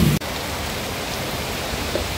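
Heavy rain pours steadily, a dense even hiss of falling water that fills the space without letup after a brief bump at the start.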